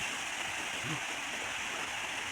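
Water from Putak Falls, a tall waterfall with a modest flow, makes a steady broadband rush that stays constant and even throughout.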